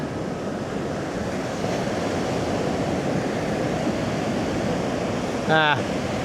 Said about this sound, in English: I can see waves breaking just in the fog, really far out.